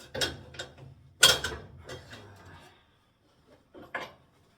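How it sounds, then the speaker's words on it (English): A wrench ratchets while turning a nut during removal of a car's front clip, giving several clicking, rasping bursts close by, louder at first, then fading to silence with a couple of faint clicks afterward. "No, I'm wrenching the nut"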